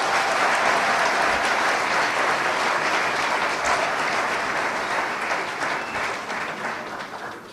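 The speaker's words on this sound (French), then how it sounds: "Et je vous demande de les applaudir" Dense, steady applause from a large audience at a political party congress in Gabon, greeting Jean Ping's delegation; loud and continuous throughout, easing slightly toward the end.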